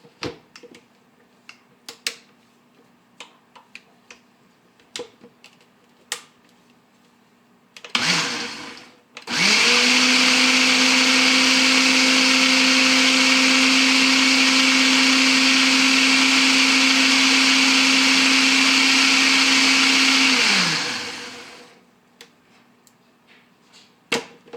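A blender whirs a granola mixture until smooth, kicking in loudly after a few scattered clicks and running at a steady high whine for about eleven seconds before winding down, then more light taps follow.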